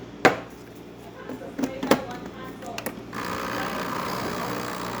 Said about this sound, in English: Beautiful grinder, working the way it's supposed to.